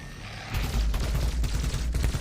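Gunfire in a video game trailer breaks out after a short lull into rapid, loud bursts of shots with heavy booming low end and mechanical clatter.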